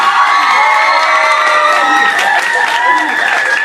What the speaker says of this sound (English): The crowd cheered uncontrollably.